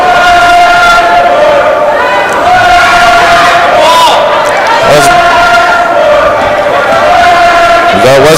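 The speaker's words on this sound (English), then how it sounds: "Is that Westport cheering for Westport, or is that sarcastic cheering there?" Crowd noise at a girls' basketball game between the Westport Eagles and the Bolton Eagles, a loud steady roar of cheering and shouting that fills the whole clip with rising yells throughout.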